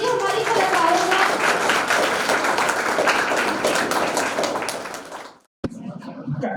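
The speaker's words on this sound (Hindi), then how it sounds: "जोरदार तालियों से स्वागत कीजिए हमारे कलाकारों का।" Loud, sustained applause from an audience welcoming stage performers, with dense clapping that fades out briefly before a short burst of sound resumes.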